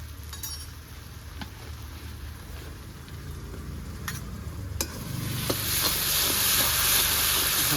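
Ginger-garlic paste frying and being stirred in a pan with onions that are already fried, giving a steady close sizzle with occasional utensil clicks that grows louder and brighter toward the end.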